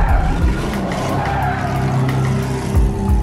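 Car skidding through a turn in a chase, loud close tire squeal over a growling engine for about three seconds, with sliding rubber noise throughout.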